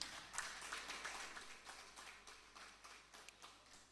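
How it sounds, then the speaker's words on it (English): An audience applauds to honor a Vice Chancellor at a budgetary control and procurement event, distant, fairly faint scattered clapping that swells and gently tapers off. "let us honor the Vice Chancellor with a round of applause"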